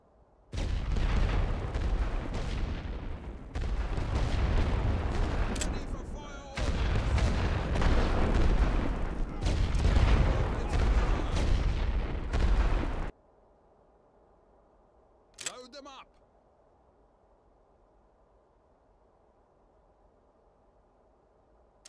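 A video game artillery area barrage on the Great War western front: heavy rolling booms in long sustained waves, loud and close, cutting off abruptly into near silence with one faint distant report afterward.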